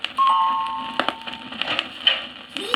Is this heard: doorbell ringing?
yes